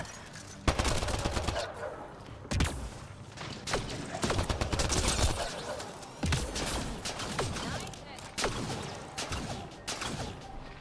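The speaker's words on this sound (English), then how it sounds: "I see you shooting at me" Rapid gunfire from the Mass Effect: Andromeda video game: dense, overlapping bursts of shots and automatic fire crackle steadily throughout, loud and close, with mechanical clatter mixed in.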